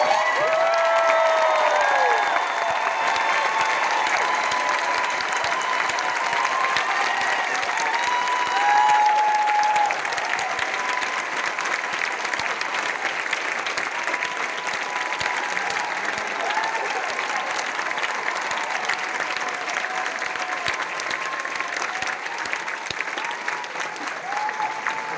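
A large Broadway theatre crowd applauds and cheers at a final curtain call, a dense continuous roar of clapping with whoops and shouts layered on top that holds steady throughout.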